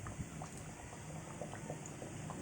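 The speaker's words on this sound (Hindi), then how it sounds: "हमारे ये पिनविल समोसा फ्राई हो रहे हैं।" Pinwheel chicken-and-potato samosas fry in hot oil, giving a faint, steady bubbling hiss that runs unbroken throughout with soft pops scattered through it.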